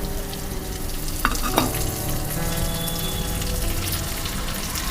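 Dried chilies and curry leaves hit hot oil with crushed garlic for a South Indian rasam seasoning, producing a loud, dense sizzle with a couple of sharp crackles near the start.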